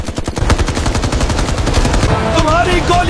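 Dense bursts of rapid automatic gunfire crackle loudly through a battle scene in an Indian action film, fast repeated cracks that run continuously, with a faint whining sound near the end.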